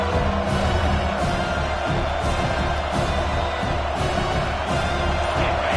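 A big football stadium crowd during a Bama vs Texas game roars in a steady, dense wall of cheering, close and loud throughout with no pauses.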